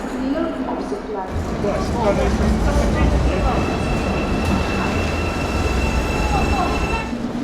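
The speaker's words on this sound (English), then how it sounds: "Today I'm boarding an intercity train." An intercity train rumbles steadily at close range, with a low rolling drone, faint rail squeals and mechanical whine throughout.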